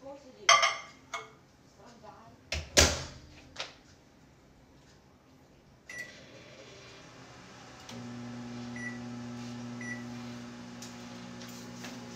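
Bangus fish is reheated in a microwave: a few loud dish clatters and knocks, then the door shuts and the oven starts with a steady low running hum that continues to the end.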